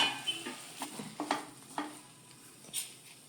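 Boiled potatoes and peas being stirred into masala in a pan, a quiet run of soft scrapes and spoon clicks in an irregular rhythm over a faint background sizzle.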